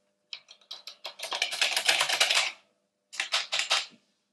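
Keys clatter on the keyboard of a 1982 Tandy TRS-80 CoCo 2 home computer, which may be faulty: a quick run of close, crisp keystrokes, a short pause, then another brief burst.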